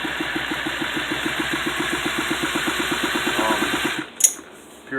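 A 2-stroke 52cc pocket bike engine idles at low RPM during break-in, making a steady, close, buzzing putter that suddenly cuts out near the end and leaves a brief clatter and near silence.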